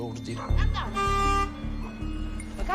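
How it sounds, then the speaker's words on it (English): A car horn sounds one sustained blast on a street, with a brief toot just before it. Voices talk loudly around it, and a dog may bark in the mix. "They're honking at you, see?"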